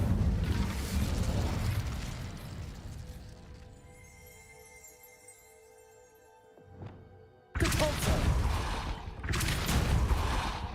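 A fire spell cast in the Hogwarts Legacy video game roars as loud, dense bursts of crackling blast noise, dips into a quieter humming stretch, then erupts again with a sharp burst and another heavy wave.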